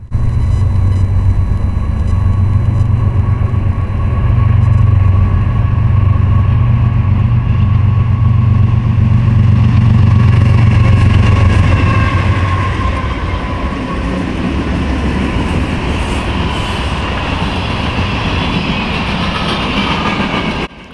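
A CSX freight train rolls past close by, led by KCS GEVO locomotives, with a loud sustained engine roar that gives way to the steady rumble and clatter of rail cars passing.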